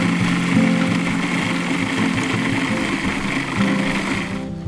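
A food processor whirls Oreo cookie crumbs and cream cheese into a thick mixture, giving a loud, steady motor whine with a churning rattle that runs unbroken for several seconds before cutting off at the end.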